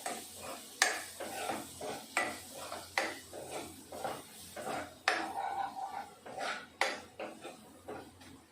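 Spices being stirred and mixed in a metal pot on a home kitchen stove for aloo puri, giving repeated scraping and clinking strokes at close range with a faint sizzle beneath, no talking.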